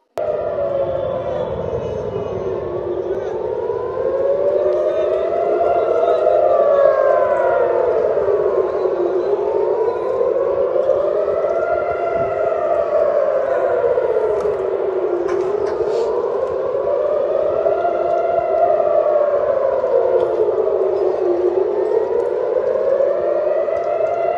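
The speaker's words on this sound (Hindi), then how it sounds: "देखिए कि कैसे इसराइल में सायरन बज उठे।" Loud wailing civil defense air raid sirens in Israel rise and fall in slow, repeating cycles, overlapping and sustained throughout.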